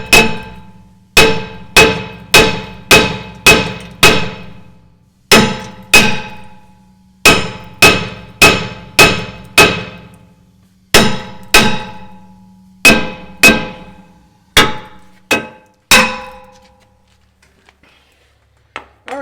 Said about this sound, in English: you might have to hammer from the back side